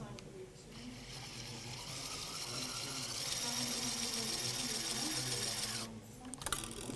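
Powered surgical screwdriver driving a screw into a plate during posterior fixation of an acetabular fracture, a steady whirring motor hum that runs for several seconds, then cuts off with a couple of short clicks.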